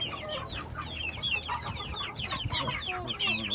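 A flock of chickens clucking and chattering continuously, busy overlapping calls close by, with a rooster among them.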